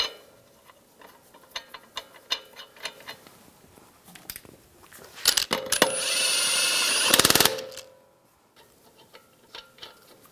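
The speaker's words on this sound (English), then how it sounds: "Get the lug nuts started." Lug nuts are started on the wheel of a Ram 1500 pickup: close, scattered metallic clicks and rattles build to a loud, sustained whirring burst of a power tool spinning the nuts on, then light clinks.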